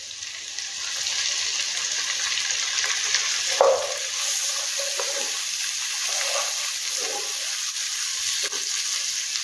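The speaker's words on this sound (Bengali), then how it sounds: "এবার এটা একটু ভালো করে ভেজে নিয়ে এর মধ্যে এবার দেব পেঁয়াজ।" Onion fries on a low flame in a pan for a macaroni-and-vegetable dish, a steady close hiss with a few soft stirring scrapes and faint knocks.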